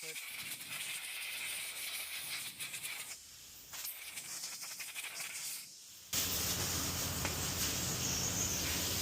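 Water or spray hisses steadily over a front brake rotor on a 2011–2014 Ford F-150, a continuous spraying rush with brief pauses, then a louder, more constant hiss near the end, close by.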